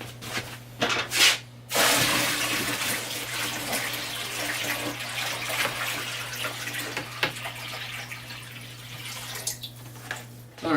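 Water pours into an indoor aquaponic garden, a close splashing stream that starts after a few short clunks and trickles, then runs steadily with occasional drips over a constant low electrical hum.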